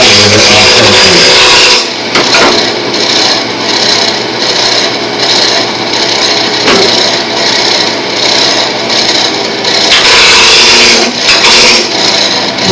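A woodturning tool cuts the corners off a wooden blank spinning on a lathe: a loud, continuous rough cutting roar with a rhythmic pulsing chatter, after a short stretch of motor noise.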